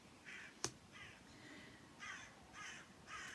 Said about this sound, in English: Can you hear the crows? I have the window open here because they fly around just outside here.